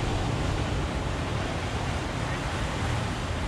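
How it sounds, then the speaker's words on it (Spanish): Ocean waves breaking on rocks at Playa Conchas Chinas in Puerto Vallarta, a dense, continuous roar of surf heard up close and mixed with wind rumble against the microphone. "Fíjense cómo rompen las olas ahí en las rocas."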